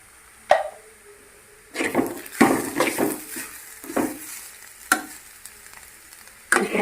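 Carrot and beetroot fry in oil in a pan, with intermittent sizzling bursts, metal utensil scrapes and clinks while the mixture is stirred. The sound is close and uneven, with quieter gaps between stirs and no one speaking.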